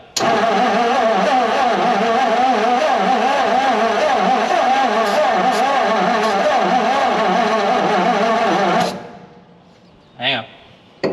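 A 1959 Ford F700 truck with an old carburetor cranks and runs roughly, a loud, steady, close engine drone for about nine seconds that cuts off abruptly, followed by a short burst and quiet.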